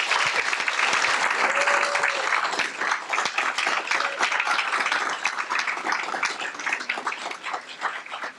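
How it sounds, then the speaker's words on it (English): School board meeting audience applauding student visual artists: dense, sustained clapping from a crowd indoors, gradually thinning toward the end. "So please give a big round of applause for our talented CSISD visual artists."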